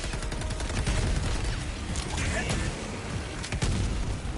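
Dense, continuous battle noise in Helldivers 2, grenade blasts mixed with rapid gunfire, loud and constant with heavier thumps scattered through.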